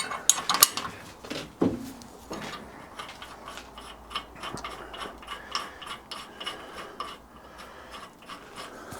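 A torque wrench tightens a 12mm bolt on a stud in a workshop, giving a run of close, sharp mechanical clicks and ratcheting ticks at an uneven pace, loud at first and then lighter, with no talk.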